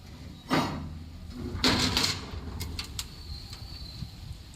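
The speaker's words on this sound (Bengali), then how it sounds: "বাইরেটা দেখো দরজার কেমন আওয়াজ" Two loud knocks and rattles of a door in a strong windstorm a second apart, then softer clicks and creaks against a steady windy background hiss.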